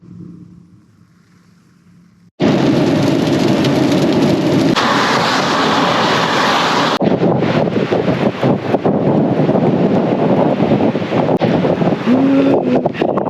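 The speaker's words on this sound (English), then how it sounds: "I'm not gonna get out because it's raining, but this is beautiful out here" Wind and rain roar loudly and steadily against a van parked on the coast, starting abruptly after a quiet opening and continuing as a dense, gusty wash of noise.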